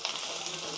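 Capsicum stir-frying in a pan for restaurant-style chilli chicken, a steady close hiss of sizzling oil with faint stirring ticks, brief and with no voice.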